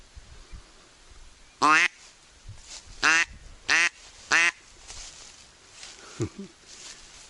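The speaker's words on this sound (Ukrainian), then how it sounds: "На кожному болотцю сидить по десятку качок." Four loud, nasal duck quacks sound in a loose sequence, close by, over a quiet outdoor background with faint rustling.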